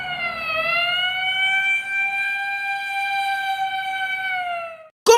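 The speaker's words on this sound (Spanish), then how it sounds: "¡La ambulancia!" A wailing ambulance siren holds one steady, loud tone with a slight rise at the start, then cuts off abruptly into a brief sharp burst at the very end.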